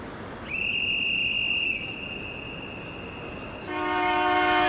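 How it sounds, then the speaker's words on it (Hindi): Passenger train departing with its horn sounding: a long sustained horn blast over steady rumble, then a second, louder chord-like horn as the train noise swells. "ट्रेन जा रही है"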